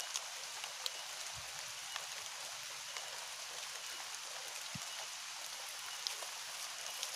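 Rain falls outdoors during a night hunt for civets, a steady soft hiss of drops spread evenly throughout with no voices.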